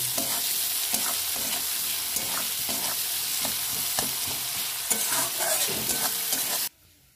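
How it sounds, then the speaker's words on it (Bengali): Chopped onion and tomato with a little salt frying in oil, stirred briskly so rhythmic scraping strokes ride over a loud, continuous sizzle, which drops away abruptly just before the end. "ওই তেলেতে পেঁয়াজ কুচিটা দিয়ে দেবো, টমেটো কুচিটা দিয়ে দেবো, একটু সামান্য লবণ দিয়ে দেবো, ভালো করে ভেজে নেবো"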